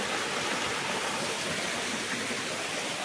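A small waterfall rushes continuously along a cycling route, giving a dense, even hiss of falling water that stays close and steady throughout with no voices.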